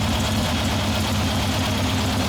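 A Harley-Davidson Ironhead Sportster XLCH motorcycle engine idles at about 1,000 RPM, a steady, loud, close low rumble that continues unchanged throughout with no talking.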